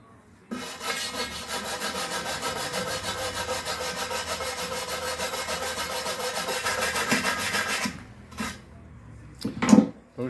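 Surface of an aluminium wheel rim from a VW Touareg V10 being rubbed and scrubbed by hand, a continuous rasping scrape for several seconds, then a few short scuffs and a knock.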